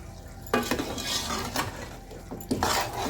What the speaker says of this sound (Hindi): तो ये अब डालूंगी स्पेशल गरम मसाला घर का बना हुआ। इसको करेंगे मिक्स।